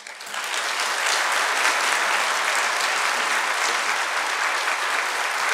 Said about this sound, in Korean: 우리 박사님 나오실 때 큰 박수로 환영해 주시면 감사하겠습니다